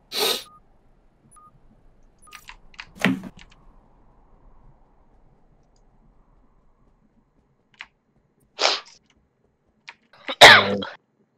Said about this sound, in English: It was a cough, but thank you.